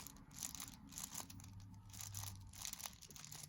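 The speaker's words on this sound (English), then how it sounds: "But after a year, my GAN 11M Pro sounds like this when I squeeze it." A GAN 11M Pro Rubik's cube creaks as it is squeezed in the hand, faint, close crinkling creaks repeating in short bursts with no talking.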